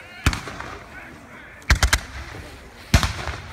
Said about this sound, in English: Excellent volleys from the British there, softening up the American positions.